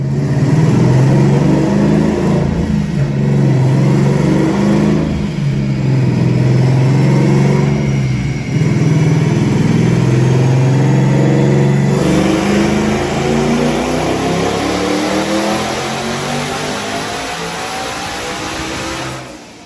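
A twin-turbo Ford Mustang engine revs hard under full load on a dyno pull, a loud sustained roar climbing steadily in pitch for about twelve seconds before easing off and winding down, with no talk.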